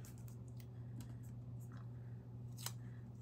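Quiet, close scissor snips cut through paper in a quick irregular series over a low steady hum, the scissors sticky.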